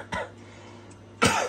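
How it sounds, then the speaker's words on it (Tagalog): Two sharp coughs from one person, close to the microphone, separated by about a second of quiet room tone, with no talking. "Umatake na naman ng ubo ko."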